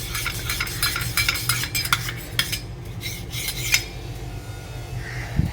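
A spoon stirs a honey drink in a cup, giving a steady scraping and clinking rhythm with occasional sharper taps against the rim, close and moderately loud.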